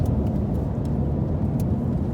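A Chevrolet Impala SS engine roars continuously while the car drives a course marked with cones, a loud, broad rumble heard from inside the car with no talking.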